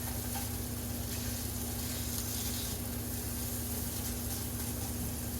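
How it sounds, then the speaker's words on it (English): Chorizo sizzles steadily in a hot pan as its fat renders out, a continuous close crackling hiss with a faint low hum underneath and no voices. "I want to render the fat out of that chorizo"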